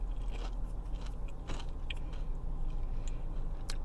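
Crisp, crunchy bites into thin crust pizza with crisped-up pepperoni, a run of sharp crackling crunches and chews close up, with no talking.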